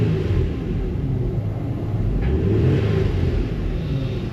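A car engine revs as the gas pedal is pressed, a low steady rumble that swells slightly near the end, heard up close without talk.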